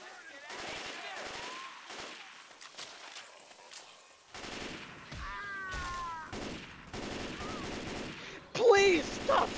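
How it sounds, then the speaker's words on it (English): Left 4 Dead 2 versus match with repeated gun bursts, sharp rapid shots in clusters, loud and close, broken by short pauses, with a voice speaking among the firing. "Please stop shooting me!"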